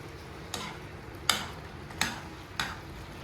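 Chicken adobo with hard-boiled eggs being stirred in a pan: four distinct spoon clacks spaced evenly over a low simmering hiss, with no talk.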